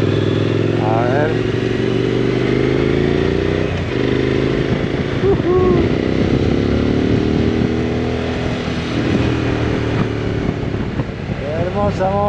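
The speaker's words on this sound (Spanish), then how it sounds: "¡Qué hermosa moto! ¡Qué lindo que anda," A Hero Xpulse motorcycle ridden on the road in Córdoba, its engine droning steadily and loudly throughout with shifting pitch as it pulls, wind and clatter mixed in, and a voice heard over it.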